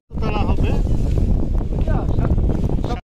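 A trawler motoring along a river toward Dublar Char in the Sundarbans, its engine a steady close drone mixed with gusty wind buffeting the microphone, with a faint murmur of voices underneath.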